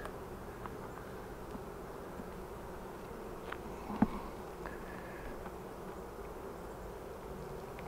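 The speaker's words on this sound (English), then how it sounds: "Some homegrown Saskatraz bees." Homegrown Saskatraz honey bees buzz at an open hive during queen rearing, a continuous close drone of many wings with a few brief clicks of frame handling.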